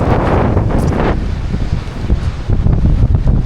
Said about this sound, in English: Actually, no, the wind is worse now.